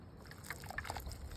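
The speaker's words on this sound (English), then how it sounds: "Okay, so I'm gonna put some water in these." Water trickles and splashes outdoors into winter sowing containers planted with tomato seeds, a soft close pour with scattered drips and gurgles.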